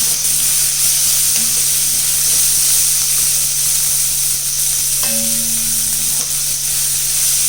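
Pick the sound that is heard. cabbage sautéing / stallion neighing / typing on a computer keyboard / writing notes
cabbage sautéing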